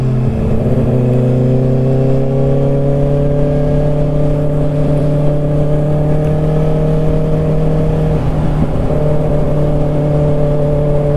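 The engine of a 2024 Kawasaki ZX6R 600cc sport bike drones loud and steady on a night ride, its pitch rising slowly then holding, with constant wind rush and no talk.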